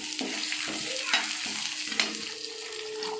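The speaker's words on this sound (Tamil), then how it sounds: "கொஞ்சம் லைட்டாக வதங்கட்டும்" Onion, tomato and green chili sauté in a hot pan for paneer butter masala, giving a close, dense crackling sizzle with a few scraping stirs and light utensil taps.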